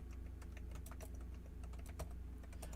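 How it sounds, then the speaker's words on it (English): Computer keyboard typing in a DJ gear setting, a steady run of quick key clicks with a few sharper taps, fairly close over a constant low hum. "Oh, I'm typing it wrong there."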